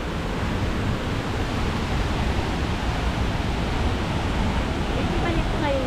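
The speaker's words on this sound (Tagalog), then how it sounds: "Malapit na tayo sa Niagara Falls." Waterfall at a local Niagara Falls in Baler, a loud, steady broadband roar of rushing water, constant from start to finish and close by, with no pauses.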